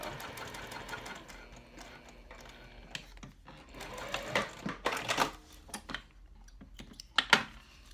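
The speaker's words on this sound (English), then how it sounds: "So on the first one, you're going to sew just down the right side." Sewing machine stitching down the side of a cork trifold wallet card slot panel, bursts of rapid mechanical needle chatter that start and stop, loud and close over a low motor hum.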